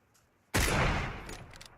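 Gunfire in PUBG, a sudden loud burst of rapid shots striking a metal frying pan, starting abruptly after a quiet moment and trailing off into faint clattering.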